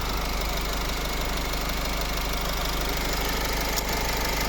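A 2010 Nissan Qashqai with a 2.0 dCi diesel and automatic gearbox idles with the hood open, a steady close rumble with a faint ticking diesel clatter and no talk.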